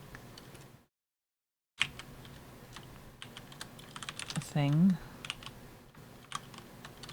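Someone types on a computer keyboard in short, scattered bursts of light key clicks, with a brief pause near the start; a voice speaks briefly over the tapping.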